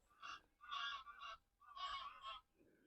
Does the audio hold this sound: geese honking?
yes